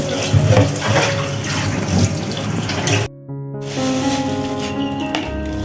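Tap water runs steadily into a sink while mugs are washed, splashing and gurgling with a short break before the flow resumes.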